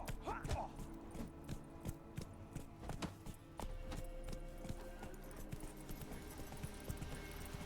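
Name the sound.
horse galloping hoofbeats in video game Witcher 3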